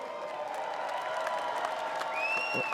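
Steady applause from a large audience fills the room, a continuous wash of clapping with a brief whistle-like tone rising near the end, at a Hall of Fame induction speech.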